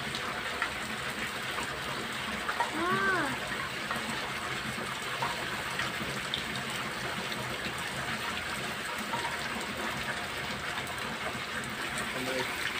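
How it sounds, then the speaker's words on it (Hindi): Heavy stormy rain pours steadily outdoors in a dense, constant hiss, with a faint voice or whistle briefly rising above the downpour. "बारिश देखते नहीं कितनी शदीद हो गई है"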